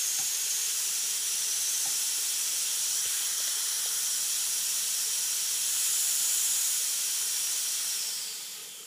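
Oxygen gas being generated in a Pyrex test tube gives a steady, fairly quiet hiss that runs unbroken and alone, with faint small ticks, then tapers off at the very end.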